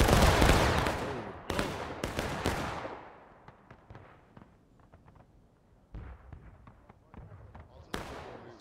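Volley of artillery fire in the War of Rights video game on the Forest Stream map: a loud opening blast with a rumbling tail, then several sharper cracks near and far, with scattered distant shots and talk.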